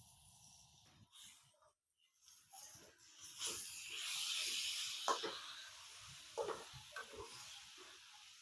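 Thin-sliced tomatoes for an Andhra-style brinjal masala curry dropped into hot oil, a brief quiet stir then a rising sustained sizzle and hiss with a few sharper spits, close and moderately loud.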